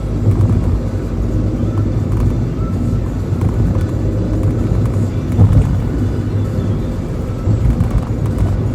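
A Skoda Fabia engine drones and revs at close range, a loud, steady low rumble that holds with slight swells throughout.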